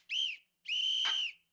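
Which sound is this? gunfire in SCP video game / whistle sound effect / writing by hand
whistle sound effect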